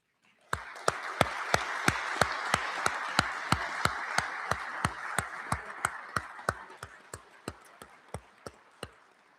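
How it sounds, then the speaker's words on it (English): A round of applause at the Warwick Police promotional ceremony, with one close clapper's sharp, evenly spaced claps standing out over a softer crowd wash that swells, then thins until only the steady near claps remain. "Please extend a round of applause for these men and women who were instrumental in this whole process."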